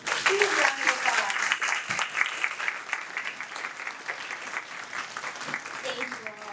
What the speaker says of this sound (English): let's give this panel one more huge round of applause